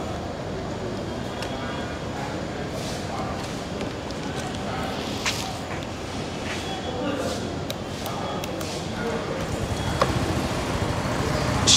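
A CFMoto SC 150 scooter engine runs steadily and close up, its continuous drone mixed with road and traffic noise, growing slightly louder near the end.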